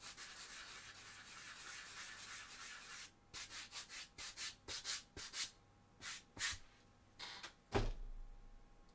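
Contact cement glue being sanded off a cosplay chainsword prop: first a continuous hiss of rubbing, then a series of short, separate scraping strokes in an uneven rhythm, close and clear.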